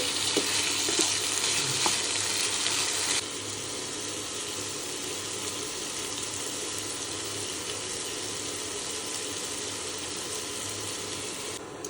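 Chicken frying in a pan on a home stove gives a steady, loud sizzle throughout, with a brighter, harsher crackle in the first few seconds before settling into an even hiss.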